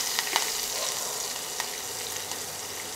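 Three long-slit green chillies sizzle in hot oil for a Gujarati besan dhokla tempering, giving a steady close hiss with a few small pops and no voices.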